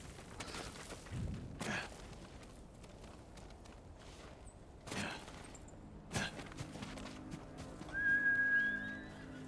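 Horse neighs and hooves clip-clop in the video game Ghost of Tsushima, with a few louder bursts over steady game ambience and a brief high whistle-like tone near the end.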